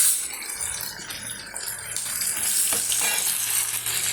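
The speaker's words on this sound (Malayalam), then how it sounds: "കായ നമ്മൾ നന്നായിട്ട് അതിലേക്ക് വരട്ടി വരട്ടിയെടുക്കാം" Chopped raw plantain frying and being stirred in a pan, a steady close hiss of oil with faint scraping that grows slightly louder midway, no voices.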